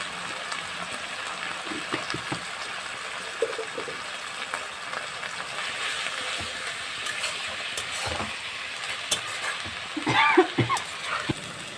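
Ghetkol leaves frying in a pan, a steady soft sizzle throughout, broken by scattered clicks and scrapes of stirring and a louder clatter near the end, close up and moderately quiet.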